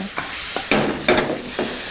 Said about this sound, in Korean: 소리부터가 벌써 지글지글 하는 소리가 벌써 다르네요.